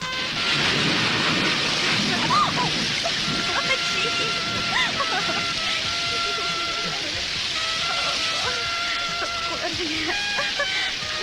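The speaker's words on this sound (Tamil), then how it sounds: "ஐயோ, மழை வருதே" Steady heavy rain pours down with a rumble of thunder underneath, filling the whole stretch at a constant, fairly loud level, with no voices breaking through.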